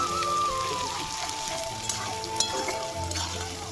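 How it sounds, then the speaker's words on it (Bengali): Garlic paste frying in a pan for a duck curry, a soft steady sizzle with light stirring scrapes, fairly quiet and close, with no talking. "দেখো রসুন বাটাটা আমি সুন্দর করে একটু ভেজে নিলাম"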